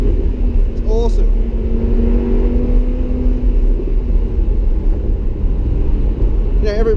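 A 2016 Lamborghini Huracan Spyder engine rumbles steadily as it accelerates, with a rising pitch as it climbs through the gears, heard loud and close from inside the car while someone talks over it.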